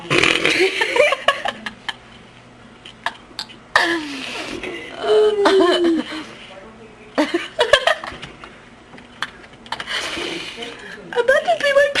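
Someone has repeated hiccups, short sharp gulping bursts scattered over several seconds, mixed with laughter and voices nearby.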